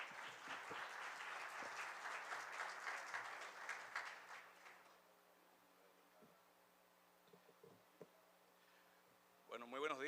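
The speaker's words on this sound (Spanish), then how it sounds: "vamos a recibirlo con un fuerte aplauso" Conference audience applauding a speaker at an event on universal accessibility in Dominican Republic air transport, a full round of clapping for about five seconds that dies away to a quiet room before someone begins speaking.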